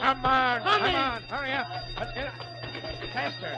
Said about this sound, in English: Hey, that's the alarm.